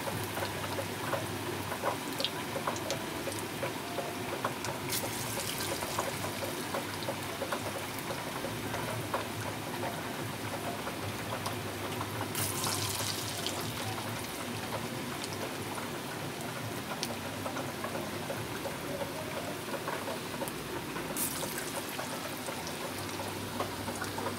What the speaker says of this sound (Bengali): আমার ফ্রাই চলছে, দেখতেই পাচ্ছেন আপনারা।